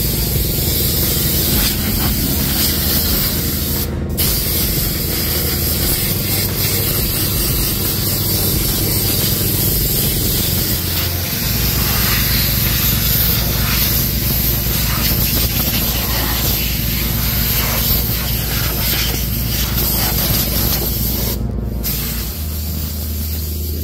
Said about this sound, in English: Get most of the dirt, especially out of the radiator and the intercooler. Blow the machine off.